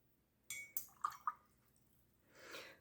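A paintbrush dipped and swirled in a water jar to wet watercolor paints in an art studio, with a few faint close clinks and splashes of glass and water followed by a soft swishing wash, quiet and without talk.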